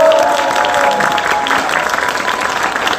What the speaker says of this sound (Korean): 다시 한번 격려의 박수 부탁드립니다.